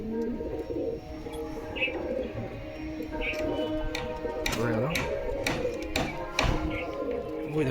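Pigeons in a loft, one hen sitting on eggs, give soft repeated coos near the microphone, mixed with light taps and knocks, while a person talks nearby.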